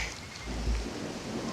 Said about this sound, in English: I better start hurrying and stop teaching because here comes the rain, I think.